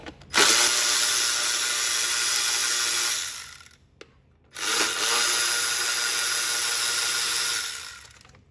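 A power tool spins out a spark plug from a Ford 3.5 Cyclone engine. It makes two loud, steady whirring runs of about three and four seconds, close up, with a brief silent gap between them.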